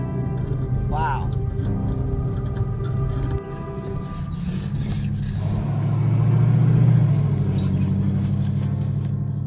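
An off-road vehicle climbs a hillside trail near Santa Barbara, its mid-pitched engine droning steadily close by and swelling louder partway through, with people talking over the noise.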